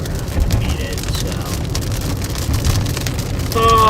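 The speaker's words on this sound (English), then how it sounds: "you can see the hail" Hail and heavy rain pound steadily on a storm chaser's vehicle during a thunderstorm near Edmonton, a loud, dense, continuous patter close by with no talking.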